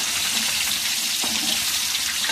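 Freshly caught salted bandari fish fries in a pan while being stirred, producing a dense, close, even sizzle with faint scraping movements and no voices.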